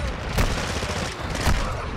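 Call of Duty: Modern Warfare gunfire booms in a dense, loud barrage, with a couple of heavier blasts standing out from the continuous shooting.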